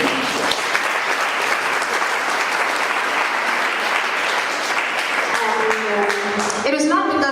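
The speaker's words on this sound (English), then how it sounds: "I think that's real applause that she deserves" A large audience at a Jesus Youth talk on building a culture of life breaks into sustained, dense applause that stays loud and steady throughout, with a few voices rising near the end.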